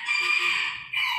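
A rooster crows once in a long, strained call, then a second call begins, both fairly close and steady, without any talking.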